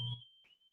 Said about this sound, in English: Like the fire alarm is going on.